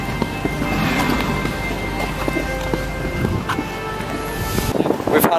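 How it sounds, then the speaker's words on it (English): Rain falls steadily on an outdoor ice skating rink, a constant hiss mixed with gusty wind buffeting the microphone and scattered light taps throughout. "It's raining though, so it's getting a bit unpleasant."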